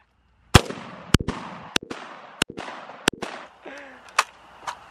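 A WWII-era machine gun, unfired since the war, fires about six loud, sharp shots at uneven intervals of roughly half a second, each leaving a short echoing tail outdoors.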